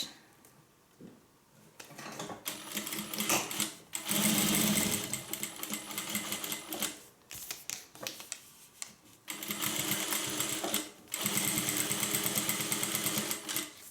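A sewing machine runs close by, topstitching with a long stitch length on a hippie van sewing project: several sustained mechanical whirring runs separated by short pauses, with no voices.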